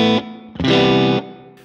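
Electric guitar through an EarthQuaker Devices Plumes overdrive into a Vox-style amp tone: two bright, slightly driven chord strums, the second ringing longer before decaying, with no talk.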